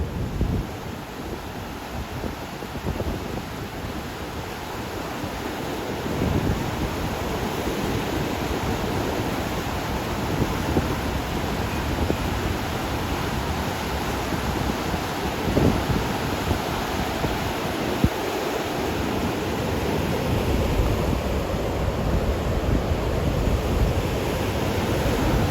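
Water rushes loudly and steadily through the opened spill gates of the Iranaimadu reservoir, where fifteen gates are open. The roar is broad, continuous and close, with no talk over it.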